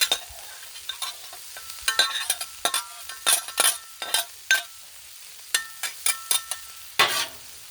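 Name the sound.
half an onion frying on a Blackstone griddle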